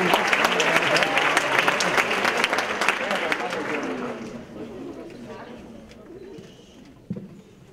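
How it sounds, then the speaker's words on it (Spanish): Audience applause at an international youth leaders summit as the OAS Secretary General is welcomed, loud dense clapping for about four seconds that fades gradually, with a brief voice near the end. "Fuerte el aplauso para Luis Almagro."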